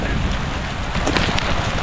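Rain falls steadily while the sun is out, a dense close hiss of drops hitting surfaces with no pauses.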